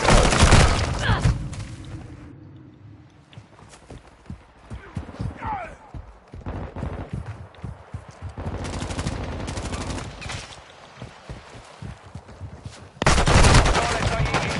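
Rapid gunfire in Modern Warfare 2: bursts of automatic shots crackle repeatedly, loudest at the start and near the end, under a voice talking over game audio.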